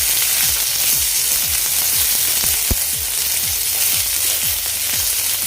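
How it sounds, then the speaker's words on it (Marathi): Chopped onion sizzling in hot oil in a pan on a low gas flame for instant rava idli, a steady loud fry hiss with regular scraping stirs. "कांदा घालते गॅसची फ्लेम मी आता लो केली आहे"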